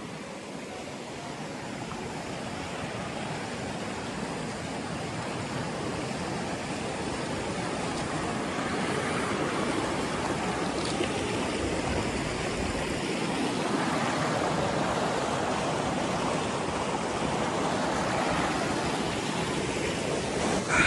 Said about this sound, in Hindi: ये है यहाँ का दरिया, जिसको कौशर कोल बोलते हैं। ये फांबर से पानी आता है।